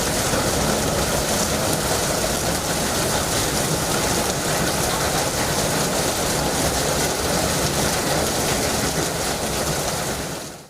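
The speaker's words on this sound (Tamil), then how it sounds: "ரயில் நிலையம் மற்றும் பேருந்து நிலையம் அமைந்துள்ள பகுதிகளில் மூன்று மணி நேரத்திற்கும் மேலாக மழை பெய்தது" Heavy rain pouring near a railway station in Tamil Nadu, a loud, dense wall of hissing noise that stays constant throughout, then cuts off abruptly at the end.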